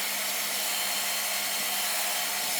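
A hair dryer running with the heat turned off on its cool setting gives a steady, loud, close whoosh of blowing air that lasts throughout with no break, with no voices.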